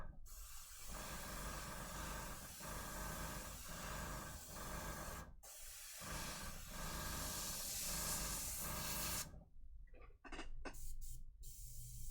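Badger airbrush compressor running in a miniature-painting workbench, a steady loud airy hiss that holds for seconds, drops out briefly, then resumes in short sputtering bursts near the end.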